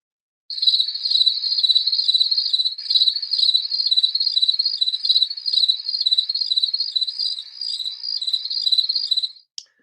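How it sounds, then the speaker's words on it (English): Crickets chirp in a fast, continuous pulsing trill, clear and close against a silent background, stopping abruptly near the end. "Crickets. It's what's making that sound."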